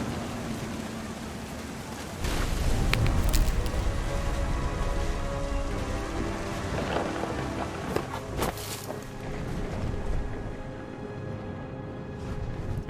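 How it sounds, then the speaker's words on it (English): Thunderstorm with rain in What Remains of Edith Finch: steady rain patter on surfaces swells after a couple of seconds, with scattered sharp drops and distant rumbling over a faint tonal background. "The thunder sounded much too close and full of angry power"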